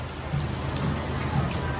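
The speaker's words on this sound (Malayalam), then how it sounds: "സോ നല്ല മഴയാണ് പുറത്ത്" Rain patters steadily outside, a soft continuous wash of drops at moderate distance.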